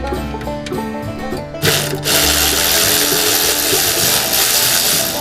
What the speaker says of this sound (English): Tactical assault ratchet.